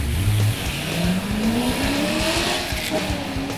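A 1969 Buick Skylark does a burnout in the driving game Pass Time, its engine roaring steadily with a rising whine and squealing tires, loud and continuous throughout with no voices.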